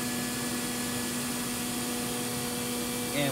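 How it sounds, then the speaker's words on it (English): A vacuum hose under the table runs while a Gravograph IS400 engraver cuts a two-ply plastic plaque, a quiet, even whooshing hum with a faint tonal whine and a brief louder rise at the end. "And once again, we're using a vacuum"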